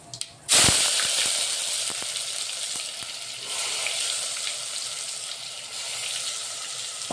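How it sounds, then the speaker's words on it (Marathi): Ginger, garlic and onion paste hits hot oil with cumin seeds in a pan, bursting into a loud sizzle that settles into steady, crackling frying close by. "त्याला छान 5 मिनिटं होऊ द्यायचा या पेस्टला"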